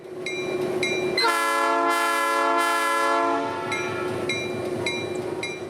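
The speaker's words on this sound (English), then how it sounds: "the 10 a.m. train is all ready to go now, leaving at 10 on the dot with another loaded train" A loaded heritage passenger train in Central Florida sounds one long, loud horn blast as it departs, with a steady rail rumble underneath and repeated bell-like chimes ringing before and after.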